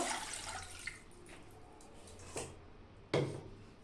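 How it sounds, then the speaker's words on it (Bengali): Hot water splashes and trickles as fish is washed in a kitchen bowl, soft sloshing with a few louder splashes and clinks, quiet and close with no talk. "প্রথমে আমি গরম জল দিয়ে মাছটাকে ভালোভাবে ধুয়ে নিব জলটা দিয়ে দিব"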